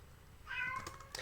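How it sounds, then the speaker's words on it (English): A pet cat gives a single short, fairly faint meow close by in a quiet room, followed by a little soft rustling. "my cat wants my attention"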